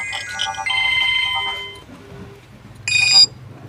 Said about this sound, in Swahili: Ngoja nipokee simu.